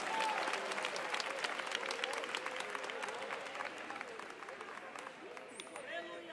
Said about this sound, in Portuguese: aplaudir a palavra de Deus com bastante alegria